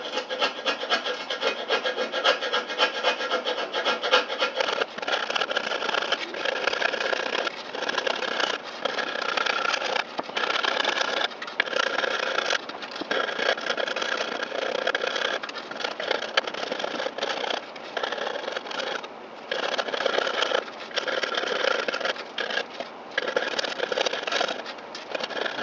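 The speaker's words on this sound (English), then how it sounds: "going to scrape the excess foam off the frame" Steady, continuous scraping as excess old foam is pushed off a loudspeaker frame during a foam surround repair, a close rasping rub with rhythmic strokes and brief dips, no talk.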